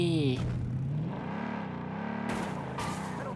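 A car drives in the shooter game Blood Strike, its engine humming and whirring with rising and falling pitch as it moves along, heard under a voice talking.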